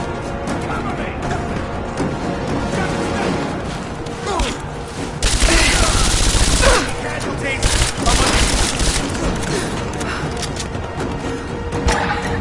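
Video game battle gunfire crackles and booms in a dense, continuous fusillade, swelling louder into a heavy barrage midway, with voices shouting over the combat.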